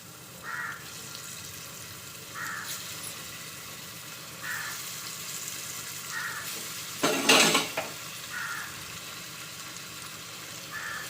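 Paneer pieces go one by one into hot oil on a low flame, giving a steady soft sizzle with a few light scrapes or clicks at regular intervals and one louder splashy burst near the end; close, no talk.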